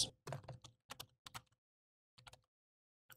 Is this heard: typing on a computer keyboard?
yes